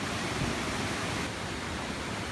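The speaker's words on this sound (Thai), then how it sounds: "เป็นชั้นน้ำตกลดหลั่นลงมาดูสวยงามนะครับ" The tiered Phromlok Waterfall in Nakhon Si Thammarat rushes as a steady, dense broadband roar of falling water, continuous and even throughout with no voices.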